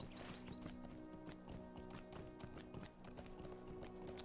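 Horse hooves galloping in the Lord of the Rings Online video game, a quick rhythmic clip-clop of repeated hoofbeats running continuously over a soft game ambience, faint overall.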